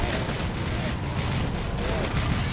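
Rifle fire rattles through a battle in the Warhammer 40,000: Dawn of War III video game, with dense, continuous volleys of shots and booms layered in a loud, busy mix.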